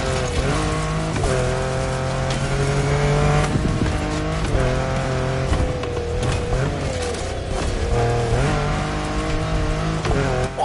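A car in The Crew Motorfest on PS5 racing hard, engine droning and revving continuously with rising and falling pitch while tires squeal and skid through turns, loud and close with no talking.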